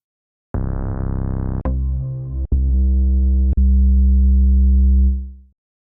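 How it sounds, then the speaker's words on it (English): Sustained synth bass notes from Ableton Live's Simpler play close and loud, a buzzy tone followed by deeper held pitches that change with sharp clicks, then fade out. "find a bass sound"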